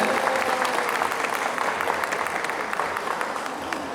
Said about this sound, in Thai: ขอเสียงปรบมือให้กับคุณพักความฮีครับ